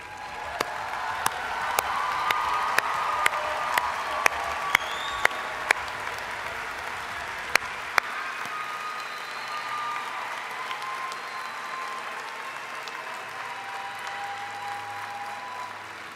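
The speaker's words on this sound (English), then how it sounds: "I think they would have kept cheering" A large in-person university commencement crowd applauds as master's degree candidates stand to be recognized. Dense, sustained clapping fills the hall, with sharp individual claps popping out early on, and the sound stays even and loud throughout.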